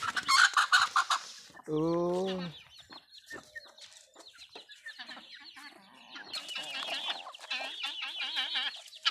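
Chickens cluck and squawk close by in a busy coop, with a rooster's call rising briefly; a voice exclaims once amid the birds.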